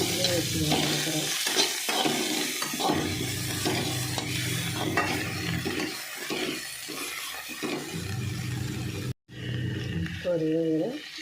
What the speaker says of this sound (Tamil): வெங்காயம், ஒரு ஸ்பூன் சீரகம் இதெல்லாம் லைட்டாக வதங்கினாலே போதும், சீக்கிரம் வதங்கிடும்.